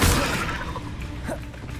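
A fire spell cast in the video game Hogwarts Legacy: a burst of whooshing flame opens loud and broad, then crackles and rumbles on at a steady level for under two seconds.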